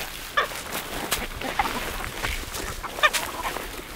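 Chickens cluck in short, scattered bursts up close while pecking through cattle manure scattered on a farm, with soft scratching in between.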